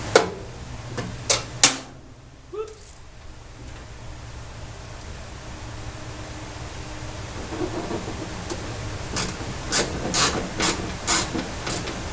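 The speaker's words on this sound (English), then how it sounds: "I think we'll have to use the ratchet." A ratchet wrench is used during a Mopar dashboard rebuild in a garage, giving a few sharp, close clicks at the start and a quicker cluster of ratcheting clicks near the end, with no talking.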